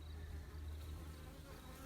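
Honeybees buzz at the entrance of a newly installed hive, some carrying pollen, a steady low droning hum from many insects close by.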